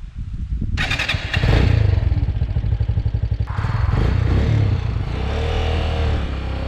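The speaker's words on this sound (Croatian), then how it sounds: "125 kubika, četvorotaktni motor, vazdušno hlađen, nekih 10-11 konjskih snaga." A Peda Pro XT 125 motorcycle with a 125cc air-cooled four-stroke engine starts up and revs loudly at close range. It idles with a rapid clatter, then pulls away as the engine note rises.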